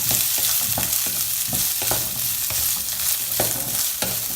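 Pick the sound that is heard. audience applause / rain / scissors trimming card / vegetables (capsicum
vegetables (capsicum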